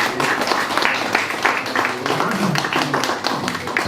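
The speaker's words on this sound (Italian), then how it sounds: "Applauso." Audience applause at a group art exhibition, uneven and sparse clapping with distinct individual claps and some background murmur, moderately close.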